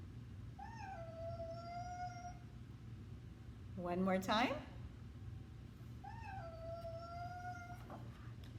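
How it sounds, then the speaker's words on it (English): A cat meows in long, drawn-out calls, three separate cries spaced a few seconds apart, clear and close over a low hum, with a brief spoken voice between them. "Did you guess a cat?"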